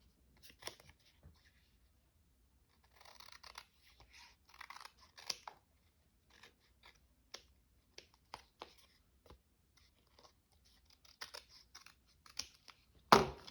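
A seashell-themed craft piece being trimmed with scissors, a scatter of soft, brief snips and papery crunches separated by quiet gaps, close and faint, with a louder handling rustle at the end.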